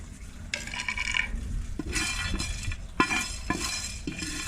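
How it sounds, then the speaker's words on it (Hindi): Whole spices sautéing in a frying pan on the stove, a close scraping stir with light clinks and a soft sizzle underneath, with no talking. "अब इसको हल्का सा इसको सौते करेंगे।"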